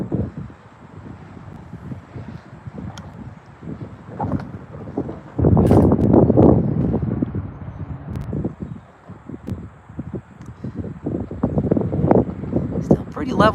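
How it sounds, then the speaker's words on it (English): Steady wind noise buffets the microphone at night at a train station, rumbling low and gusting louder midway, while someone talks over it. "Very nice night, though it is windy."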